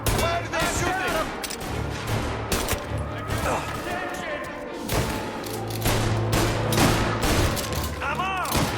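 Dense bursts of gunfire and automatic weapon fire crackle through a firefight in the video game Mafia Definitive Edition, loud and continuous, mixed with shouting game voices and booming impacts.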